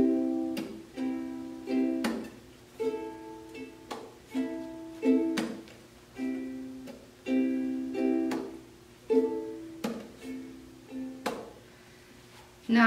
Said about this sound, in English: your down taps should sound like this